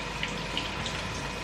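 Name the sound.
canned lentils rinsed under running tap water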